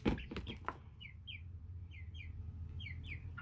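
An American Bresse chicken clucks in short repeated calls, fairly faint over a low background hum, after a few sharp knocks at the start.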